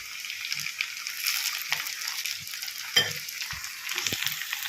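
Sliced capsicum tossed into onions already frying in a pan, a constant bright sizzle broken by soft thuds and scrapes of a spoon stirring, close and fairly loud with no talk.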